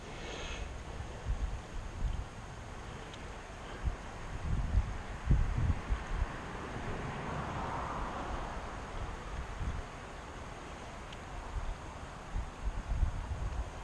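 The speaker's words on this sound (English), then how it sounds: "the wind's pushing me back" Wind blows steadily through open woodland, a broad rushing roar with low buffeting gusts against the microphone and faint rustling, continuous and fairly loud with no voices.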